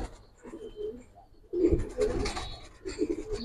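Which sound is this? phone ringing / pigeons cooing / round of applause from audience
pigeons cooing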